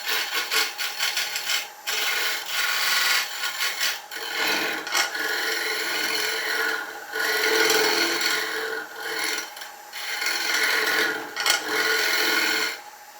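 Ash wood spinning on a lathe as a tenon face and shoe are cleaned up, giving a steady, close rasping scrape with brief dips where the tool lifts off, and no talking.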